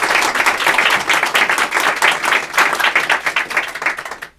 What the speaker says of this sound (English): So big round of applause for Diane Paulus.